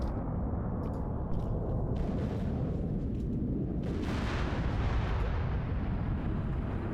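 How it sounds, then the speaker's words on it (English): Bombing explosions during an Arma airfield assault, a continuous heavy rumble of blasts with a louder surge partway through, distant and booming, with no talk. "They're really trying to bomb these two guys."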